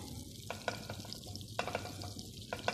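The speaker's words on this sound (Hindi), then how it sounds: "अब हम अपने ड्राई फ्रूट जो हैं वो इसमें फ्राई करेंगे" Dry fruits fry in melted ghee in a pan, giving a soft, faint sizzle broken by light stirring scrapes and taps, with no voices.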